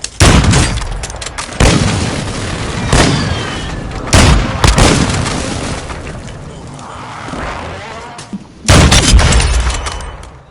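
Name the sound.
airstrike explosions in video game Warzone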